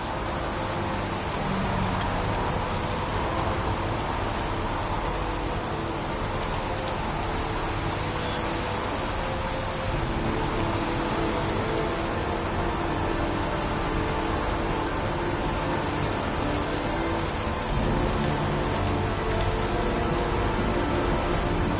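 Steady heavy rain pours continuously in a video game scene, a dense, even hiss that holds at a constant level throughout with no clear thunder and no voices.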